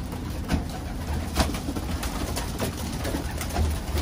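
Racing pigeons in a champion loft coo steadily and close by, soft repeated calls layered over a constant low murmur of the flock with a few louder bursts.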